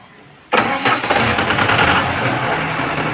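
A GT grain dryer in a farm setting kicks on abruptly after a short quiet lead-in, its motor and blower roaring up to a loud, steady mechanical drone that holds for the remainder.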